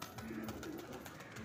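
Pigeons at home coo in a soft, short burst, fairly faint and steady, with no voices present.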